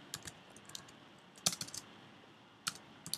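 Quick bursts of typing on a computer keyboard while entering an unzip command in a CentOS terminal, irregular clusters of close, crisp key clicks separated by short pauses, no voices.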